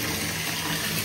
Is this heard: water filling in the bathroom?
yes